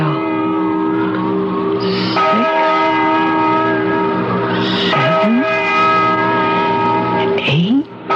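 A bell tolls repeatedly in an old radio mystery drama, long ringing strokes with sustained resonant hum between them, loud and close with other effects layered underneath.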